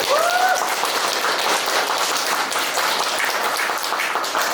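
Audience applause at a classical composition recital, a dense, steady wash of clapping from a hall full of listeners, sustained at even loudness with a brief tonal trace near the start.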